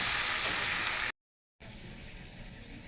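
Bele fish frying in oil in a pan, a loud dense hiss and crackle that cuts out briefly, then returns somewhat quieter and steady.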